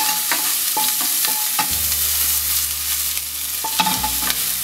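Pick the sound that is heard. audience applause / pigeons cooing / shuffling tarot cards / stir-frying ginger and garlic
stir-frying ginger and garlic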